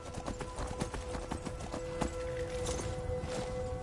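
Horse hooves clip-clop steadily in Skyrim, a brisk rhythmic run of hoofbeats heard close up over a constant ambient game hum.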